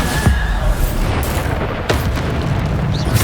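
Booming Bombarda spell blasts in Hogwarts Legacy, loud and dense, with a couple of sharp impacts over a continuous rumbling roar, no voices heard.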